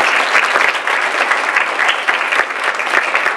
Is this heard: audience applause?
yes